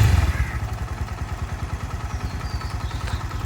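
A restored Suzuki GS150SE motorcycle idles just after starting, its engine thumping in a rapid, even pulse close by with no talk.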